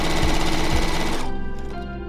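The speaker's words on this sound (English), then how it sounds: "The key is to just have it on the twin needle setting on your machine. It's sometimes a button or like, and then it's just a straight stitch." A sewing machine runs a straight stitch with a twin needle, its fast steady mechanical whir loud and close before it slows and stops, leaving faint clicks.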